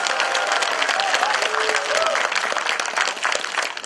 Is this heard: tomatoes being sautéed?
no